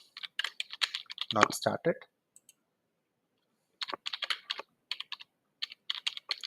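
Quick bursts of typing on a computer keyboard, a flurry of sharp clicks, then a pause, then more irregular keystroke runs, close and crisp; a voice speaks briefly at the start.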